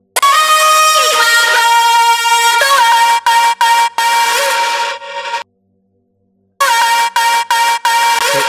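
Distorted drum and bass synth without Soothe processing, a loud harsh buzzing drone broken by short stabs, a drop to silence, then more choppy bursts, close and abrasive.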